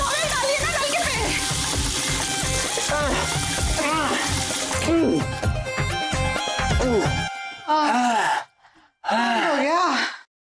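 Water gushes from a tap that won't turn off, a constant splashing rush under loud, excited voices and dramatic background music, with brief gaps near the end.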